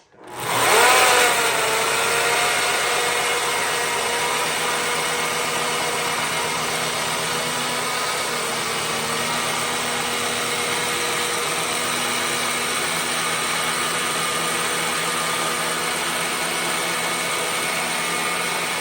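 A Mafell chain mortiser cuts a bird mouth seat into a timber rafter, starting abruptly into a loud, steady motorized roar and chain chatter that holds unbroken throughout, with no voices.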